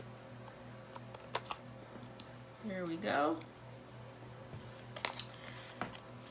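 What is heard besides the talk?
scissors cutting a paper piece for card making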